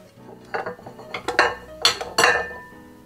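Ceramic plates clink and clatter as they are handled and stacked, about five sharp knocks in an uneven rhythm, close by.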